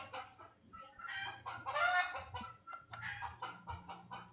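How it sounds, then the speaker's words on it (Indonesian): Neighbour's chickens cluck and squawk in a busy, continuous chatter, fairly faint and picked up through a voice chat microphone, with a low steady hum underneath and no speech. "Ayam tetangga ribut."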